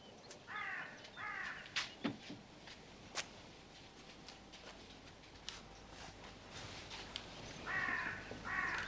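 Black crows cawing as they land on a ship's deck, harsh repeated caws in short bursts near the start and end, with scattered clicks and knocks between, fairly faint overall.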